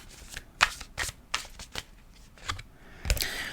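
Tarot cards being shuffled and drawn by hand: a quick run of crisp riffling snaps and slaps, close and fairly loud, with a final sharper card flick near the end.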